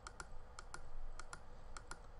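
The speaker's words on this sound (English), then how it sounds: "This is left clicking," Sharp left-button clicks on a Logitech Anywhere Mouse MX, about eight crisp, fairly loud taps in uneven pairs, close up over a quiet background hiss.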